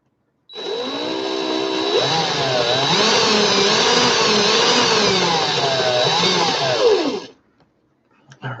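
A power drill twisting wire for coil building whines loudly and steadily for about seven seconds, its pitch dipping and rising as load changes, then cutting off abruptly.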